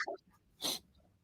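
A single short, sharp sneeze bursts out near the middle, preceded by a faint breathy sound.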